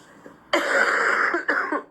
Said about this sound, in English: She had a cough.